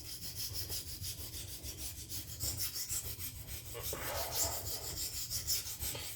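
A folding knife is rubbed back and forth across a sharpening stone, making soft, rhythmic rasping strokes, fairly faint and close, with no talking.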